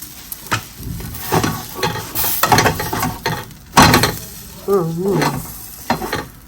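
Cheese and spinach naan puffing up in an oiled frying pan, crackling and sizzling in bursts with scraping and stirring knocks against the pan, close and fairly loud.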